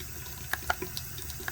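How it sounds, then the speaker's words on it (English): Hot water poured over a metal piece being coloured with a liver of sulfur patina, a faint trickling splash broken by a few sharp drips and clinks, quiet and close. "So again, I'm hitting it with some more hot water."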